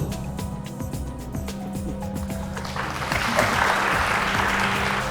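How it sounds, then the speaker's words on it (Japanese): Audience applause welcoming a speaker onto the stage at a Japanese talk live event, scattered claps with background hum at first, then swelling into a denser, louder round of clapping. "もう一度大きな拍手を。"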